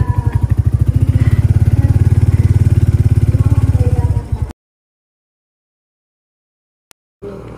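A Kawasaki Barako motorcycle rides along on a rural road, its engine throbbing with a steady pulsing beat close by and loud, before cutting to silence and then briefly resuming.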